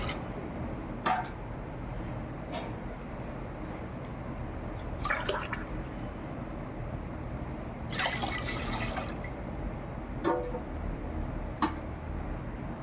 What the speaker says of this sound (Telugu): తపాల్లో వాటర్ వేసుకుంటున్నాను.